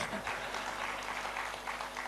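Applause from the audience at a Hindi poetry gathering: a steady, dense wash of many clapping hands, moderately distant and continuous, with no voices standing out.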